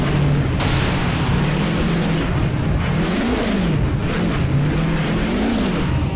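Race car engines in the Hot Wheels video game roar continuously with loud, rising and falling revs, swelling twice as cars accelerate, amid tire noise and steady track ambience.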